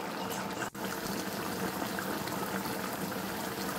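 Chicken curry with ground spice paste simmering in a pot, a steady close bubbling and gentle boil that runs unbroken apart from one brief dip.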